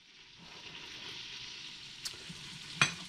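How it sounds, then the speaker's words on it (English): Butter melting in hot bacon grease for razor clam chowder, a steady soft sizzle and crackle throughout, with a couple of brief sharper pops near the end. "and our bacon grease. Let that heat up and let the butter melt."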